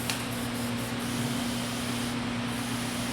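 An Infinity CR Plus airbrush with a 0.15 mm needle sprays at about 10 psi, giving a steady, even hiss that runs unbroken throughout with a low constant hum beneath it.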